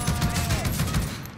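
Call of Duty: Warzone gunfire rattles in a quick, dense volley, close and fairly loud, the shots blurring into a continuous burst over roughly a second and a half.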